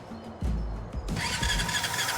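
In the point-and-click game Brassheart an engine cranks with several chugging turns, then catches and settles into a steady running hum with a bright mechanical whine, close and fairly loud, no voices.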